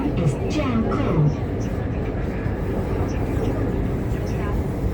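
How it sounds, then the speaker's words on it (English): A Guangzhou Metro Line 5 train runs with a steady low rumble and rolling hum, a few faint higher tones above it, heard from inside the carriage. "The destination on this train is Jiaokou."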